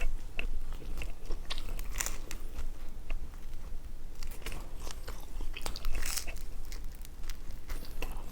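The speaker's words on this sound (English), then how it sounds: "the dough's getting kind of chewy, so like, it's kind of hard to bite off" Someone bites into and chews a slice of cooled pizza with chewy dough, close to the mic, giving soft crunches, tearing and wet chewing that continue throughout with no talking.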